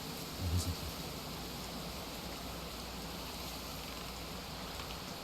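Steady rain in the video game Westmark Manor, a dense, even hiss of falling water that fills the whole stretch at constant loudness, with a brief low thump near the start.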